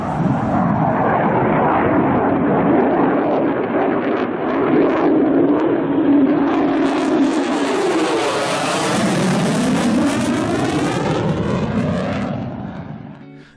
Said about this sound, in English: That was the sound of an F-35B Lightning II, the RAF's latest multi-role frontline fighter.